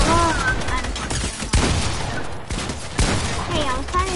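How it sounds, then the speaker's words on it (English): Rapid bursts of video game gunfire crackle loudly and continuously, with several sharper shots standing out amid the dense clatter and a voice faintly mixed in. "I'm trying to shoot"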